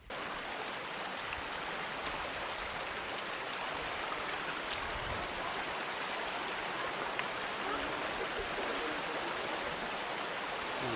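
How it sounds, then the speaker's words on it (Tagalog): A river runs strong over white stones in the dry season, a steady full rushing hiss heard close and continuous, with no voices. "Kahit tagaraw, malakas ang ilog dito."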